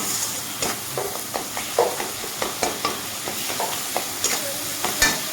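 Masala spice paste is stirred into softened tomatoes frying in a pan for a rohu fish curry with potato and pointed gourd, giving a steady sizzle and hiss broken by repeated soft scraping and stirring clicks.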